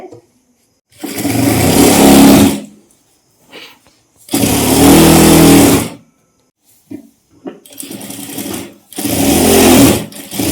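A sewing machine stitches a salwar in three long, loud, steady whirring bursts separated by short pauses, with faint handling noises in the gaps.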